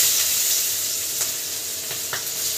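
Onion with nigella seeds and green chilli fries in hot oil, giving a continuous loud sizzle with a few light stirring scrapes.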